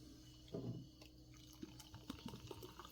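Pepsi Ume plum-flavoured soda poured into a glass, a faint liquid splash followed by soft fizzing and small pops, quiet and close.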